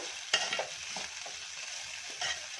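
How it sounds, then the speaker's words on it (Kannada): Ingredients dry-roasting in a pan while being stirred for chavalikai (cluster bean) palya, a soft steady sizzle with a few scraping stir strokes, fairly faint and close. "ಇನ್ನೂ ಸ್ವಲ್ಪ ಹುರಿಬೇಕು"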